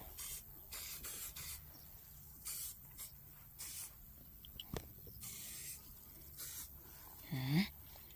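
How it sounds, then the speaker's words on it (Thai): An aerosol insect repellent against ticks and leeches sprays in short bursts on a forest mushroom-foraging trip: several brief, faint hissing puffs spaced irregularly, over quiet outdoor background noise. "แล้วเราก็มาทำการฉีดสเปรย์เลยค่ะ"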